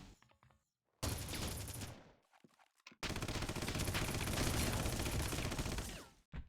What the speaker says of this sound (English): Yeah, a shotgun. that's the good sound, I guess.